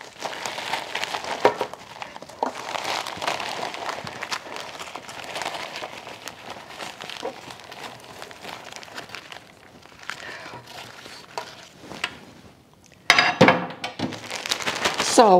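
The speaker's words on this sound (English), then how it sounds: "put them in a plastic bag and just squish them up with my hands" Powdered dried eggs are squished by hand inside a plastic bag, giving continuous close crinkling and crackling of plastic in irregular bursts, with a brief pause before a louder rustle near the end.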